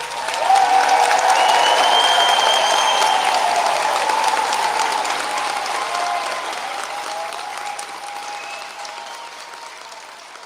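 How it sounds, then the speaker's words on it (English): Sustained, enthusiastic applause from a large audience congratulating graduates at a university graduation ceremony, loud and continuous at first and then gradually fading, with some cheering mixed in. "let's really raise the roof with a final round of applause"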